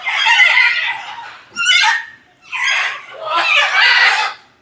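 Birds in a safari park aviary at Gazipur give loud, harsh screeching calls in four close bursts separated by brief pauses.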